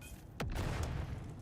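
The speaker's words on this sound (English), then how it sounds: "Grenade!" Grenade explosion in Dune: Awakening, a single sudden deep boom with a sharp onset, followed by a low rumbling decay, fairly faint overall.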